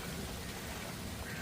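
Steady, dense hiss of rain falling, a continuous even wash of noise with no talking.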